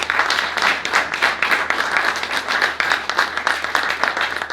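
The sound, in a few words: audience applause for the speakers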